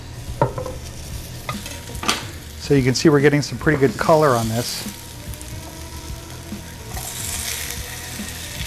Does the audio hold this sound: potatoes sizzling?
yes